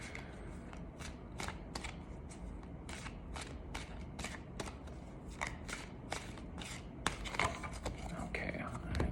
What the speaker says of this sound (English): I'm feeling pretty good about this shuffle.